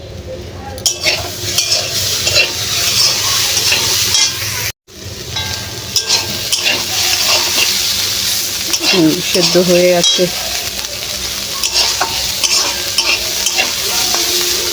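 Bitter gourd frying with onion in a pan, a steady close sizzle with stirring scrapes and light utensil clinks throughout, briefly cut off once, while someone speaks a few words.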